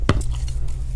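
A heavy, Spanish-made Hydra Esus fixed-blade bushcraft knife lands one sharp, solid chop up close, followed by a low background rumble, with no talking.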